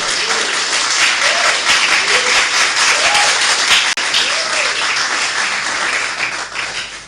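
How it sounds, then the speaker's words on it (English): Dense, sustained applause from a large audience at a political event unveiling a running mate in Ghana, steady and loud for about seven seconds with faint voices mixed in. "Let's give a round of applause to the incoming First Lady."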